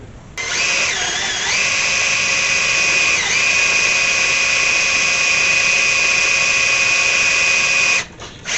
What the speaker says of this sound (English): I got to drill the old one out because the cylinder's got to come out